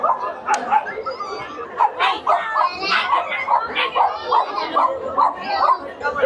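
Puppies at the dog market of the Sonpur Mela animal fair bark, yip and whimper close by in quick bursts, mixed with children's and adults' voices in a crowded setting.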